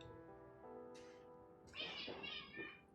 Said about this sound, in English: The cats are going off right now.